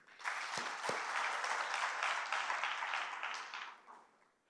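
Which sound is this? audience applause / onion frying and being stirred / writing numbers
audience applause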